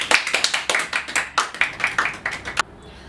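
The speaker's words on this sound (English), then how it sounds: "Clapping is in order." A small audience at a model United Nations committee session claps after a draft resolution passes, a few hands producing sharp, fairly rhythmic claps for over two seconds before stopping abruptly into quiet.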